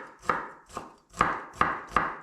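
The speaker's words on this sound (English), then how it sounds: "chopping this as fine as you can is a really nice challenge" Five sharp knife chops land in an uneven rhythm, close and distinct, while food is chopped as finely as possible for a homemade algae-style tzatziki.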